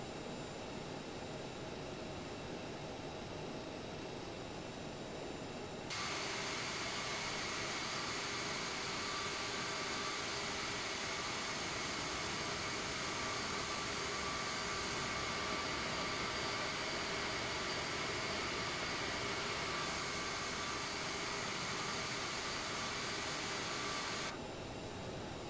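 Aerosoft CRJ jet engines in Microsoft Flight Simulator taxiing on the apron at Paderborn, a steady broadband turbine roar with a whine that swells louder after a few seconds and holds continuously, then drops back near the end.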